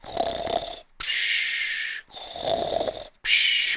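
A voice imitates a monster snoring: four drawn-out snores alternating rough inhaled rasps with breathy exhales, each separated by brief silences, close and fairly loud with no speech.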